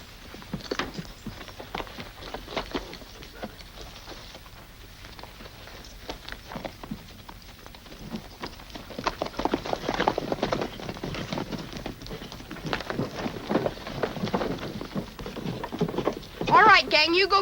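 Horses walk with irregular clip-clopping hooves that grow busier and louder over time, heard at moderate distance in an old film scene, mixed with faint rustling and occasional voices.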